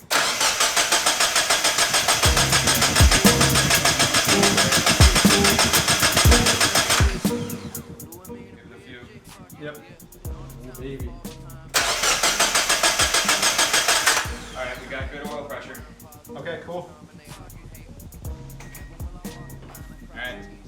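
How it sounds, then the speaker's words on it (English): A turbocharged Mazda Miata NB engine cranks in two long bursts of steady, rhythmic starter churning without firing, each followed by quieter stretches with people talking. "the car will crank over and over, move the fuel around, and it won't fire"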